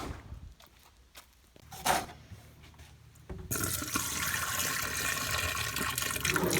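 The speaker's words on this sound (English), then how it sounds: "I'm going to take a second container and pour down the traps" Liquid pours down a camper's drain trap, starting with light trickles and clinks, then a loud, steady gushing rush of water that continues to the end.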